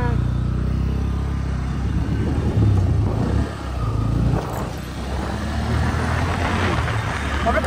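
A vehicle driven through town in hot weather, its engine a steady low rumble with some revving, close and continuous, with faint road noise throughout.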